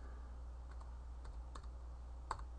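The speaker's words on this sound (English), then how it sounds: "As you're typing through your dash," Typing on a computer keyboard while searching an Ubuntu 12.10 dash: a few scattered light key clicks, close and quiet, with a short cluster toward the end.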